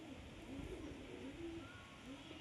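A pigeon coos in a few soft, rounded calls close by, a female with pearl-coloured eyes, over a steady murmur of background noise.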